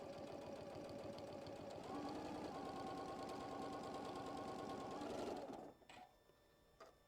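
A sewing machine stitches a quilt block seam, running steadily with a dense rapid mechanical hum and clatter for about five and a half seconds, then stopping, followed by a couple of faint handling clicks.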